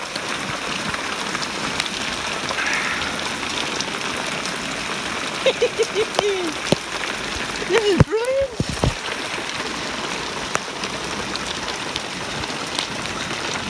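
A rain shower falls steadily during a storm, a constant hiss and patter, while a voice talks briefly over it and a whistling pitch sweep passes in the middle.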